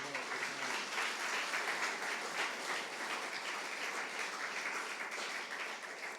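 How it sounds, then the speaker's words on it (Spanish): Church congregation clapping for the Lord during a Sunday service, a dense, continuous round of applause at fairly low, distant level, without speech. "démosles palmas al Señor"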